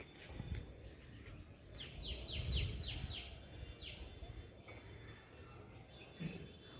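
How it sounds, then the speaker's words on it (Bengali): Several birds chirp and call in quick bursts on a rooftop, including a rapid series of descending tweets, over a faint outdoor hum. "কত রকম পাখির ডাক শোনা যায় ছাদে আসলে"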